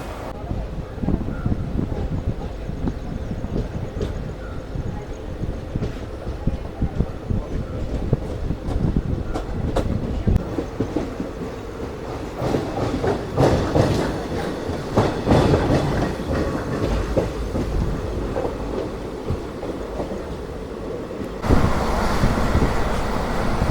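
A train on the line to Nilambur Road, Kerala, rumbles along the rails with rhythmic clickety-clack and rattling carriages, loud and close, while people talk faintly in the background.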